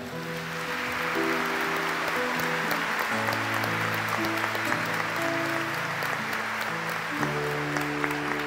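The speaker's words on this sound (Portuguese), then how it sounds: "Vamos dar uma salva de palmas." A church congregation at an evening mass applauds together, a dense sustained clapping that fills the space for several seconds, with a steady organ or keyboard tone sounding beneath it.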